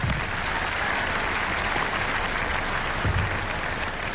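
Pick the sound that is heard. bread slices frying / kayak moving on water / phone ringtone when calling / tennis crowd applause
tennis crowd applause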